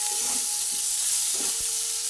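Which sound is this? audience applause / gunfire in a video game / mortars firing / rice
rice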